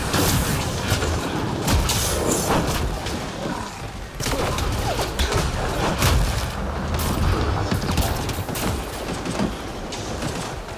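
Gunfire and explosions in the battle royale game Apex Legends, a sustained loud barrage of shots and heavy booms rolling through a noisy firefight with no letup.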